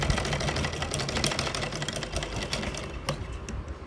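Sewing machine stitching kurti fabric runs in a fast, dense, rhythmic clatter of needle strokes, close and steady for a few seconds with no talk.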